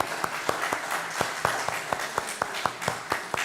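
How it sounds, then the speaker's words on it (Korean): At a Sunday worship service in a Korean Methodist church, the congregation applauds a deaconess. Sharp, evenly spaced claps stand out above a softer bed of scattered applause and room murmur, with a steady rhythm of roughly four claps per second. "황신대 권사님 크게 한번 박수."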